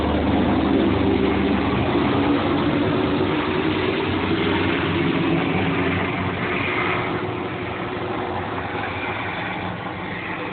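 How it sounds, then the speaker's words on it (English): An airplane passes overhead, giving a steady low engine roar that slowly fades across the span and sounds muffled and distant, with no talking over it. "A plane is passing, so it's like drowning my voice right now."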